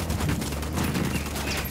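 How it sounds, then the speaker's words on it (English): Gunfire in the tactical shooter Ghost Recon during a truck depot mission, a loud, dense fusillade of rapid overlapping automatic shots filling the whole moment with no voices. "Open fire."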